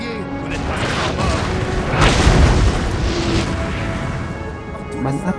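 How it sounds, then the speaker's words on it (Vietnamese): Artillery fire in the Napoleon Total War video game rumbles as a loud, sustained booming roar that swells and then fades over several seconds, with scattered crackles and mechanical clatter. "Bắn áp chế đối phương."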